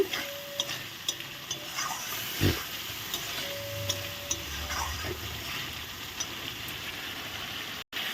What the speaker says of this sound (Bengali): দেখো কি সুন্দর কষানো হচ্ছে